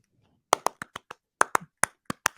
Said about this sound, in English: It's a little bit weird for me to clap.